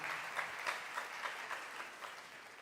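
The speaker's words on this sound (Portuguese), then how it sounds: "Aplauda aí" A church gathering at GYM Brazil 2019 applauds in steady, continuous clapping that sounds faint and distant throughout.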